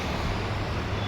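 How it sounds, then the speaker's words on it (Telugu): Lorries rumble past on a road, a brief, steady, close wash of heavy traffic noise with no break. "లారీలు వస్తున్నాయి."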